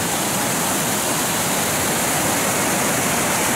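A waterfall on the Wasserfallsteig trail near Todtnau in the Black Forest roars in a dense, constant rush of falling water, loud and unbroken, with no voices.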